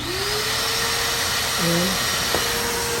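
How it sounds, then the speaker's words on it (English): An Ecomax 5 gallon shop vac runs steadily after being switched on, a constant broadband motor whine and airflow roar held at close range, with a brief voice in the middle. "Got it plugged in, right? And now all we gotta do is vacuum up some stuff."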